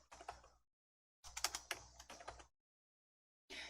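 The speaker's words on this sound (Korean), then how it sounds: "검색 상자에 픽사베이라고 적으실게요" Someone types on a computer keyboard into a search box: close, crisp keystrokes in two quick bursts with a longer run in the middle, separated by silent pauses, with no voices.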